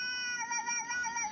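Cartoonish banana cats crying meow in a video game, a steady, slightly wavering synthetic meowing tone with a pulsing rhythm, clear and alone.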